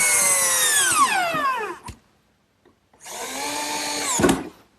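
Power drill driving screws to fasten a top assembly to a wooden bookcase cabinet, two loud close whirring bursts with falling pitch as each screw seats, separated by a short silence.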